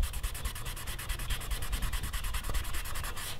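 Matte paint on a 1969 Camaro is rubbed by hand with fast, steady back-and-forth strokes, a faint, close, rhythmic scrubbing that continues without pause.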